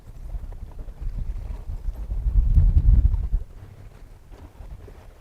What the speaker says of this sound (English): Wind definitely picked up a lot in the last 30-40 minutes.